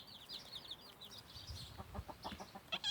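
A hen with her chicks in a farmyard, soft high peeping and clucking repeating across the clip at moderate distance, with a few lower sounds near the end.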